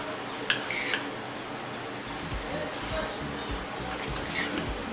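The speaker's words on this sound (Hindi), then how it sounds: "इसको अच्छे से मिक्स करेंगे।" Mutton keema with masala sizzles gently in a pan while a utensil scrapes and stirs it, giving off soft clinks against the metal. The frying hiss stays steady and low underneath occasional metallic taps.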